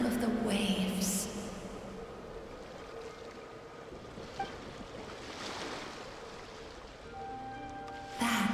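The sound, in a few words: ocean waves in Genshin Impact video game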